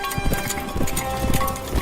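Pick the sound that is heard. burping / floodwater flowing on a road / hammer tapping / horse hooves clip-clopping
horse hooves clip-clopping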